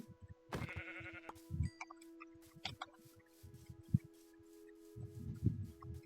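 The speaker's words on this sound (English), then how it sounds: "I've never seen this amount of pink sheep spawn" Pink sheep bleat in the video game Minecraft, several short sheep calls scattered across the clip amid faint game sounds and light clicks, moderately quiet.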